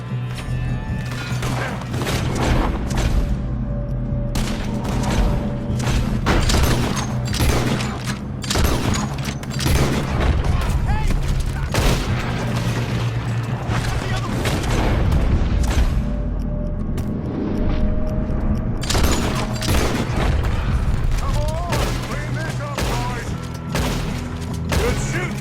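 A sustained shootout in Red Dead Redemption 2, with dense, rapid gunshots cracking one after another for the whole stretch. The fire is loud and close over a rumbling background, with occasional voices mixed in.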